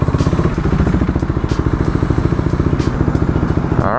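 A KTM 390 Duke motorcycle's single-cylinder engine idles steadily up close, with an even, rapid thumping pulse running throughout and no talk.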